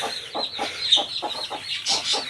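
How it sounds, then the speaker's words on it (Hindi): Chickens on a farm in cold winter weather cluck close by in a busy, uneven series of short calls, with a steady low hum underneath and no talking. "बाकी मेरी मुर्गियाँ भी बंद हैं"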